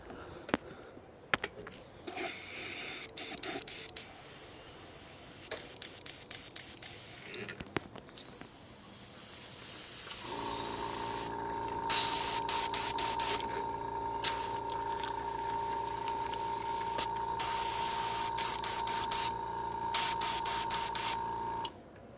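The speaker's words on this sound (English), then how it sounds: "using airbrush only" An airbrush sprays paint in repeated short hissing bursts, first in scattered squirts and then in longer bursts over a steady faint whine, with no talking.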